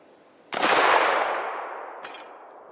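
A single loud shotgun blast firing a magnum slug outdoors, a sharp crack followed by a long rolling echo that decays over two seconds, with a faint second report near the end.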